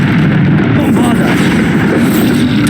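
The Bombarda explosion spell goes off in Hogwarts Legacy, a loud continuous roaring blast that fills the whole moment with dense, rumbling noise.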